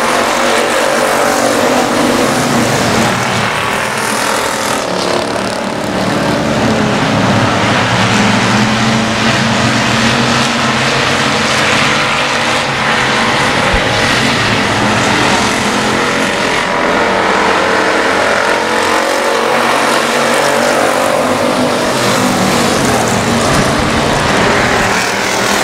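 Race cars roar around the I-37 Speedway oval in a continuous loud engine drone, several cars close together with rising and falling revs as they battle down the back straightaway.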